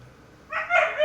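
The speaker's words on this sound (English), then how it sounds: "He howls more than barks." A half-wolf dog lets out a short, near tonal howl that rises after a quiet start and wavers for about half a second.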